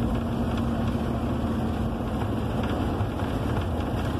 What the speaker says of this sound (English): So I can actually hear the exhaust coming out as I'm driving before it goes through to the muffler.